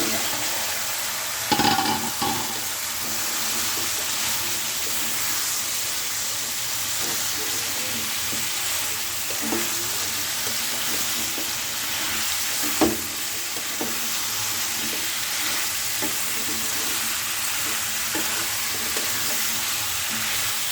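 Pumpkin and potato sautéed with spice paste in a pan, a continuous close sizzle broken by repeated scraping stirs and an occasional clank of spatula on metal.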